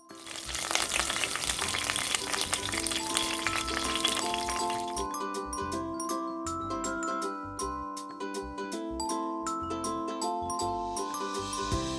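Mutton frying in a pressure cooker, a strong crackling sizzle at first that settles into lighter spitting with occasional clinks, no talking.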